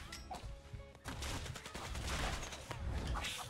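Gunfire in the Zooba battle game comes as rapid bursts of shots that thicken after the first second into a dense, continuous volley, with scattered impact sounds.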